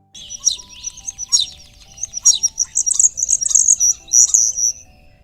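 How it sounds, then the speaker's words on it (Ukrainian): A common starling sings a busy stream of whistles, clicks and chirps, bright and close, with brief pauses between phrases. "Давайте послухаємо пісню шпака."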